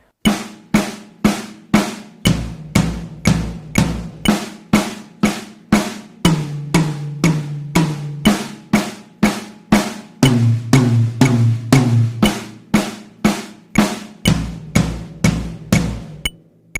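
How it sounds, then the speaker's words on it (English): Eighth-note drum fill of four hits spread over two drums, played against an eighth-note beat: evenly spaced sharp strikes in a steady rhythm, loud and close, with pitched drum tones shifting between sections. "We're going to hit 4 hits on 2 drums of your choice."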